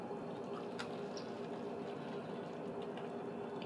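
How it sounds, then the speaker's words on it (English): Water drained off cooked noodles in a kitchen gives a soft, continuous pouring and splashing sound, faint but unbroken, with a few small drips and clinks. "I'm taking out the water from the noodles."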